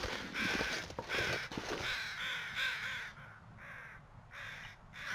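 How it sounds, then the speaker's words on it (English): Crows caw in repeated harsh bursts in the wilderness of the survival video game The Long Dark, several calls overlapping and loud, with no speech. "Sounds like the birds are getting louder."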